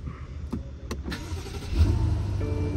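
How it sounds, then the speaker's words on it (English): Car engine starting up: a few clicks and a brief cranking give way to the engine catching and settling into a steady low idle, close and without talk. "let me go ahead and start it up."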